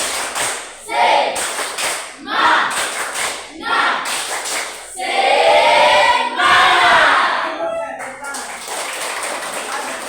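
A classroom of students performs the tepuk semangat spirit clap, bursts of loud rhythmic group clapping with shouted chants between sets, close and energetic.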